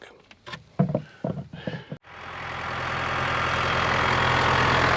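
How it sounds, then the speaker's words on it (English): A Case tractor's diesel engine cranks and catches, then settles into a steady, loud idle that runs alone to the end, after a few moments of indistinct talk and handling noise. "I think I might just fire her up and just get a bit more temperature back in the engine before I open that plug."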